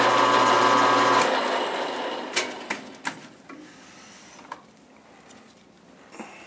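A lathe runs while drilling a center hole into the end of a shaft, giving a loud, steady mechanical whir for just over a second, then a quick spin-down followed by scattered metallic clicks and taps against a quiet background.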